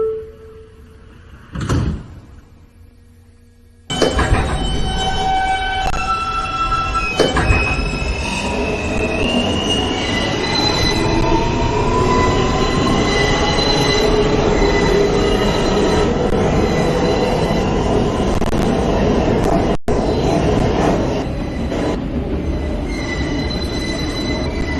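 A Queens-bound N local subway train on the Broadway line in New York starts from quiet with a brief clunk, then bursts into a loud, sustained roar of rolling cars laced with screeching wheel squeals.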